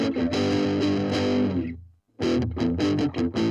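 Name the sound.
guitar amp lead channel overdrive, flat EQ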